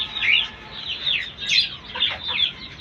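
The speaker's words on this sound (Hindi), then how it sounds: "ये लव बर्ड। अरे ये लव बर्ड तो मेरे को बड़े पसंद हैं।" Lovebirds in a home aviary giving a string of sharp, high chirps and squeaks, repeated in quick bursts, loud and close with no speech.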